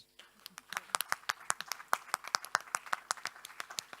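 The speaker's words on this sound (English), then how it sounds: "let's offer that an applause, please" Applause from a conference audience after a talk on open geospatial data, a dense run of sharp hand claps building over a few seconds, fairly close and steady without any voices.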